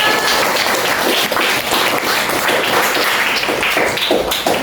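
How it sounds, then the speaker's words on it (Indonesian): Classroom applause from students in an Indonesian lesson, rapid dense clapping that stays loud and close for the whole stretch. "Tepuk tangan untuk Upaira."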